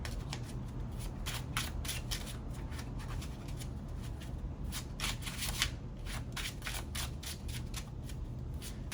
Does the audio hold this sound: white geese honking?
no